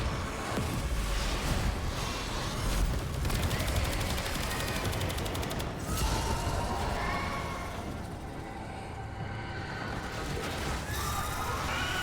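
Rapid automatic gunfire from the Laetum Incarnon weapon in a video game, dense continuous bursts of shots layered over game sounds and background music, loud and steady throughout.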